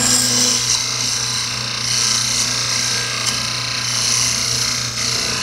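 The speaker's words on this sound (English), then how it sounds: "now I can make that a full cylinder using the spindle roughing gouge." A spindle roughing gouge cuts a wood blank into a cylinder on a lathe, giving a steady rasping, scraping whir over the motor's low hum, continuous and close without a break.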